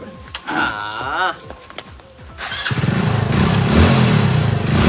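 A motorcycle engine cranks and catches, then settles into a loud steady idle after a brief voice and some clatter.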